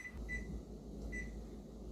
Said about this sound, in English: So my timer just went off.